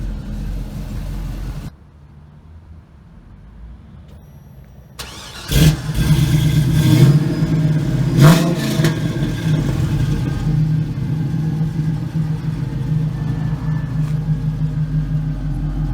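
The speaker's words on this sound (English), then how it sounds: "It's just an LS motor out of a truck, and she runs good." A truck-sourced LS V8 in a 1968 Camaro SS turns over and catches, then settles into a deep, rumbling idle with a couple of brief revs up close.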